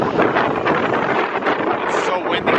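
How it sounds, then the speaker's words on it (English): Strong wind buffeting the microphone at an airport landing in Gibraltar, a loud, steady roaring rush that never lets up, with a voice faintly present beneath it. "this airport landing right now, is so windy."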